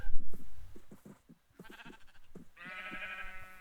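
A sheep bleats on a farm, first in short rough calls and then in one long, loud, wavering bleat close by, with no talk over it.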